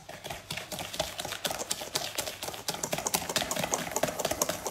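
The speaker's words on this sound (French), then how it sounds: "vous allez mélanger à nouveau avec le fouet" Butter being whisked by hand into a cookie batter in a bowl, a rapid, steady run of clicking and scraping taps of the whisk against the bowl, fairly loud and continuous with no talk.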